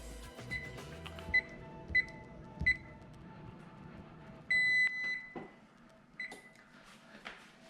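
An oven timer beeps in a home kitchen during trout cooking: several short, high beeps in an irregular series, then one longer beep, set against faint clatter and room noise.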